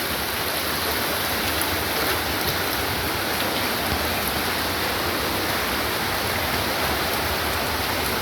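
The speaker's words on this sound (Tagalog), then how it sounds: "Sinasabi na lang falls sa loob ng kuweba." A waterfall pours inside a cave at Pagsanjan Falls in Cavinti, a steady, loud, broadband rush of falling water that fills the whole stretch without pause.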